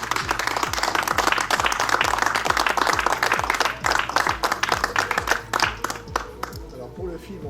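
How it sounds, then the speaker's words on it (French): A crowd at a silver medal ceremony in a hotel applauds loudly, with dense, fast clapping that gradually thins toward the end, and voices faintly underneath. "à notre ami Christophe, qu'on peut applaudir très fort."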